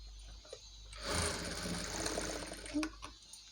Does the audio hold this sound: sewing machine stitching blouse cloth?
yes